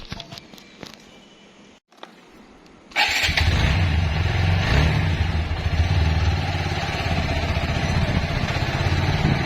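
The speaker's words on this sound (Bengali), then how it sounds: "বাইকটা বের করলাম" A motorcycle engine starts up after a few quiet handling clicks and then idles loudly and steadily close by, with a low rumbling throb.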